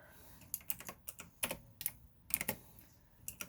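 Soft, close clicks from a computer keyboard come in irregular small bursts and single taps over a quiet background, with no talk during the typing.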